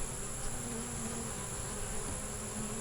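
A steady, dense hum of honey bees buzzing close by, continuous and even, with a high whine riding over the drone.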